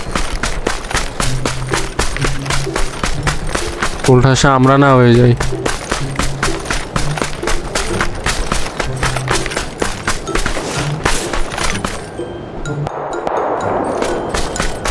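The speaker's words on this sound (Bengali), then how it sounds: "এই যে এবার ফাইট হচ্ছে রাইট থেকে আর লেফট থেকে ইউএমপির ফায়ার।" UMP gunfire in PUBG crackles as fast, repeated bursts from both the left and the right, some shots near and others farther off, under steady talking from players.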